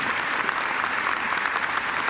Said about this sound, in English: I think Eric deserves another great round of applause.